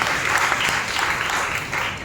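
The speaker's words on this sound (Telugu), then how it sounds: "చప్పట్లు కొట్టి దేవుని మహిమ" A church congregation claps together in sustained applause, a dense, even patter of many hands filling the room for a couple of seconds before easing slightly.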